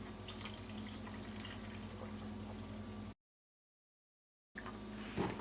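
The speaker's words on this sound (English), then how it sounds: "And to this I'm gonna add about 1 cup of water." About a cup of water pours into a blender jar holding chipotle sauce ingredients for shrimp, a steady close trickling and splashing that runs for a few seconds, breaks off, then resumes with a few louder drips.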